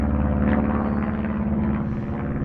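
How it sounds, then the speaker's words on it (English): An airplane passes overhead at a scrap yard, a steady, even engine drone that fills the whole stretch without fading, with no talking. "airplane flying above."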